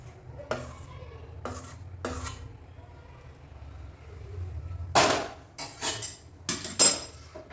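Melted jaggery being stirred into a churma ladoo mixture in a metal vessel, with scattered clinks and scrapes of a spoon against the pot, sparse at first and then a denser cluster of sharp knocks.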